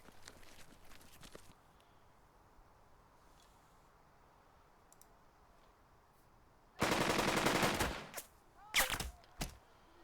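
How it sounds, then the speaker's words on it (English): Gunfire on an enemy position in the war strategy game Burden of Command, a loud burst of rapid automatic fire for about a second, followed by a few shorter volleys, after a long quiet stretch. "I'm going to take this enemy position under fire"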